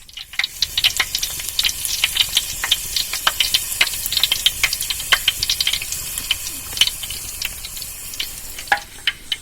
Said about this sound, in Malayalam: അരിപ്പ തവിക്കകത്ത് തന്നെ വെച്ചിട്ട് മുന്തിരി വറുത്ത് കോരുവാണ്